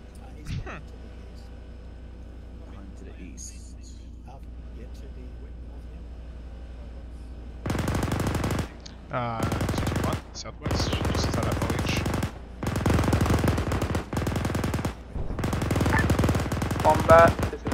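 Bursts of machine gun fire from an M60 main battle tank in a military video game come in several loud, rapid rattling strings after a quiet stretch, with radio-style talk between them.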